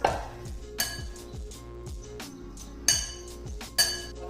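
Omelette ingredients with ground black pepper and spices are stirred in a bowl, giving sharp clinks of utensil on dish every second or so over a steady background hum.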